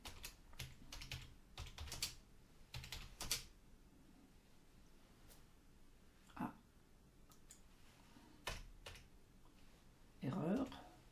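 A title is typed on a computer keyboard in short bursts of soft, close key clicks separated by pauses, with a few louder taps, and a quiet voice is heard briefly.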